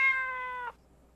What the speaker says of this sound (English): Such a pretty kitty.